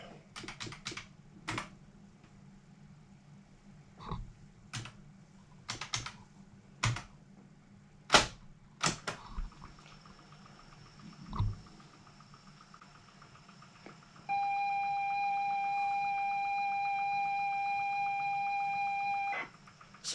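A Sinclair Spectrum +2A loading the game Zip Zap from cassette: a run of sharp clicks and clunks from the tape deck, then a steady, loud high pilot tone that holds for several seconds before ending.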